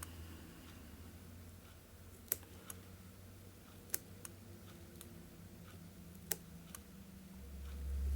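Faint, sparse snips of scissors tips trimming hair on a Hemingway Hopper fly during fly tying, a handful of small sharp clicks spaced irregularly over a quiet background.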